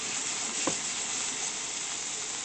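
Kobe beef sizzles steadily in a hot pan with browned butter, a dense, even frying hiss that holds throughout, with one brief clink partway through and no talking.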